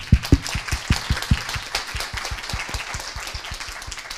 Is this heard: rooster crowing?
no